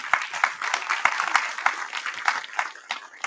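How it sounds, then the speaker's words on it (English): Applause at a live Meet the Candidates 2022 community event, sparse and uneven with distinct individual claps standing out, moderately loud and close, lasting a few seconds without talk over it. "Give her a round of applause"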